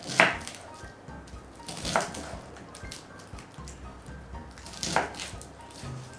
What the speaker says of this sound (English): I'm going to chop the onions